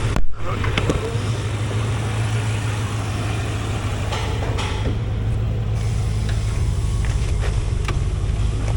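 A 1990 Corvette C4 Polo Green convertible with an L98 V8 and 90,000 miles idles steadily up close, with a few sharp clicks and knocks over the engine's low rumble.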